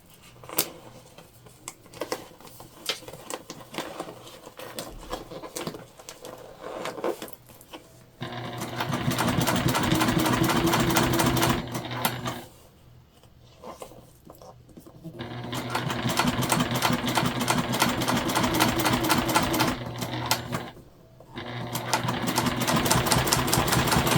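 A sewing machine top-stitches jelly vinyl for a pencil box. Rapid mechanical stitching runs in several loud bursts, separated by short pauses and quieter handling noises.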